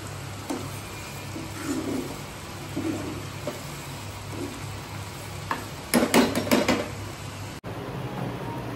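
Paneer bhurji cooks in a pan on a gas stove, a soft low sizzle with faint scraping stirs and a short burst of clattering spatula hits near the end, with a steady hum underneath.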